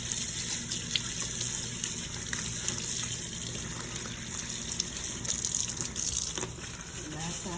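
Tap water gushes steadily into a kitchen sink while a raw steak is rinsed under it, a continuous close splashing stream with small clatters throughout.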